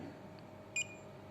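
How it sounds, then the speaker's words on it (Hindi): A multimeter's continuity checker testing a wire gives one short, sharp electronic beep over a quiet room hiss, with a fainter blip just before it. "किसी भी वायर की कंटिन्यूटी चेक करते हैं तो आपको एक बीप की आवाज़ सुनाई दे रही है इसमें"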